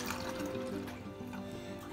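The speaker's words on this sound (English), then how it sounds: "Now in this bottle, using funnel, we have to put water inside the" Water trickles steadily through a funnel into a bottle, a soft continuous close-up filling sound with a dense, bubbly hiss and no voices.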